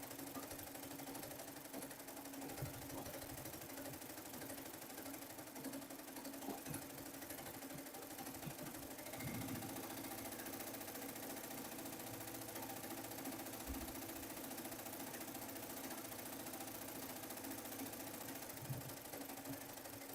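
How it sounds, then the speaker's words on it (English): An embroidery machine stitching a sunflower design runs steadily and quietly, a constant mechanical hum with a faint rapid needle chatter that never stops over the whole stretch, with no voices. "y'all gonna see that the machine is gonna run this design. It shouldn't stop or make a jump stitch unless it's changing the color."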